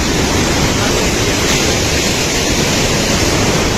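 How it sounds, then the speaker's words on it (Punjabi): A strong mountain river rushing under a bridge on the trail to Govind Dham, heard as a loud, unbroken roar of water close by with no variation and no voices. "ਪਾਣੀ ਦਾ ਵਹਾਅ ਬਹੁਤ ਹੈ"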